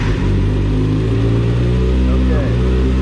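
A motorcycle engine cranks and catches while left in gear, then runs at a loud, steady idle close by, with a person talking over it.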